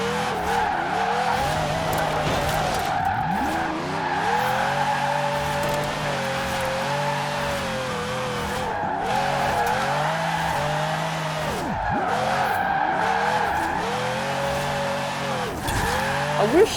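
A Ferrari 599 drifts in Forza Horizon 4, its engine droning steadily under a constant tire squeal that wavers in pitch as the car slides, loud and close throughout with no pauses.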